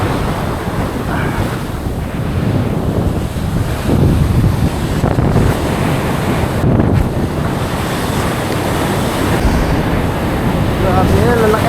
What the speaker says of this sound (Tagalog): grabe, lalakas ng alon